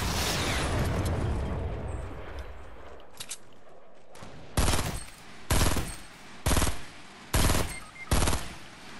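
Shooter video game gunfire after a noisy opening rumble: five loud, evenly spaced bursts of rapid shots, close and punchy, with no one talking.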